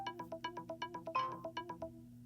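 A phone ringtone repeats in a steady series of short melodic pulses during a call test of a Humane AI Pin, with one brighter overlapping tone near the middle, close and clear with no talking.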